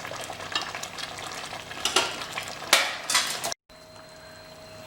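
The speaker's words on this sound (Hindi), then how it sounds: "और हाई फ्लेम पे इसे हम भून लेंगे बढ़िया।" Kachri mutton curry frying in ghee over a high flame: loud crackling sizzle and clattering stirring of metal against the pot, with bursts of scraping before an abrupt cut to a quieter hum.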